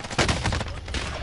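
A loud, close burst of rapid video game gunfire during an online squad match, with shots fired in quick succession and no pause.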